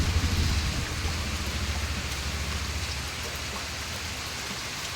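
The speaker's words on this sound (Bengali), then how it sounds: "তো মনে হয় আজকে সারা দিনে এইভাবে বৃষ্টি হবে" Steady rain falling outdoors, a dense even hiss of drops on surfaces with a faint low rumble underneath, continuous and with no voices.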